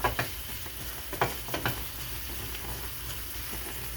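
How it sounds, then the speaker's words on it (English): Onions sauté in a hot pan, giving a steady close sizzle with a few sharp scraping stirs and clicks of a utensil against the pan. "get the onions sauteing just for a minute, just till they're soft"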